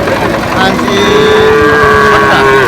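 A calf lets out a long, drawn-out moo close by, loud over a busy background of crowd and engine noise at a cattle market.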